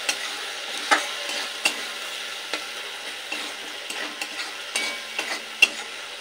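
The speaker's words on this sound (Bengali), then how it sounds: "এই মশলা খুব ভালোভাবে কষিয়ে নিতে হবে সুন্দরভাবে।" Freshly ground spice paste with raw red chilli being stirred in a hot pan for a fish-head and potato curry, a soft steady sizzle broken by a handful of sharp spatula scrapes and clicks, close and alone without talk.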